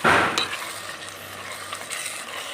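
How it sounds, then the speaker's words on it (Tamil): Masala for chicken biryani stirred in a hot pan, a scraping spoon stroke followed by a soft, steady frying sizzle, close by with no talking. "இப்போ இதை நாம் நல்லா கிளறி ஃப்ரை பண்ணி எடுத்துக்கலாம்"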